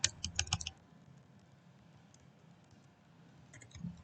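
Keystrokes on a computer keyboard while a code comment is typed, in a quick burst of close clicks at the start, then a quiet pause and a shorter flurry of taps near the end.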